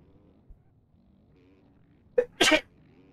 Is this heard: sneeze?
yes